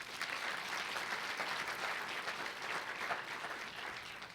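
Applause from an audience at a school district's state of the schools address, an even wash of clapping from a large room, steady and moderately distant throughout.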